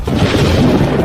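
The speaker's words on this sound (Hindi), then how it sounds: "ताई शांग का हुक्म, वज्र को काट दो। धमाका" A fantasy drama effect of a purple lightning strike lands as a loud, deep booming blast with rumbling thunder-like energy that fills the whole short moment, with no speech over it.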